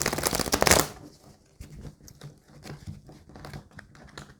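Tarot cards being shuffled and drawn, opening with a loud, dense riffle of shuffling, then softer scattered card flicks and slides close by, with no talking.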